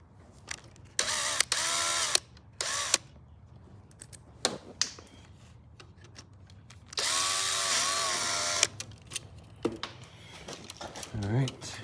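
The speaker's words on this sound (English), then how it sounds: "let's get our drill again." Power drill working on an electrical outlet, running in several short bursts and one longer whine, near and fairly quiet, with clicks and handling noises between bursts.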